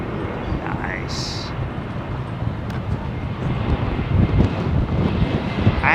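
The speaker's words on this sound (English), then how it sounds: "brand new Aer Lingus A320neo" An Aer Lingus Airbus A320neo arrives on runway 27R at London Heathrow, its steady jet roar filling the clip and building slightly toward the end, with wind buffeting the microphone and people talking over it.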